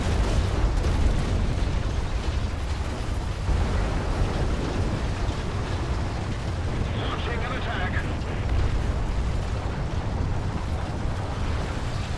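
Gunfire and explosions in War Thunder arcade tank battle at Port of Novorossiysk: a dense, continuous low rumble of cannon fire and blasts fills the scene, loud and sustained with a rattling burst midway.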